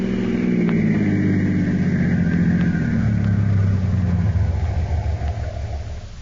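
A car on a cliffside road slows to pull over, its engine a loud, steady low rumble that drops in pitch and eases off near the end, with no voices.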